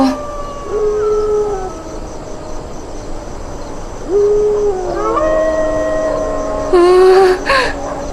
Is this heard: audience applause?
no